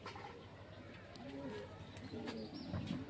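Madrasi pigeons in a Kolkata loft give a few soft, low coos at close range over a steady background hum, with brief chirps mixed in.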